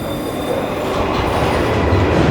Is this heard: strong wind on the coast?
no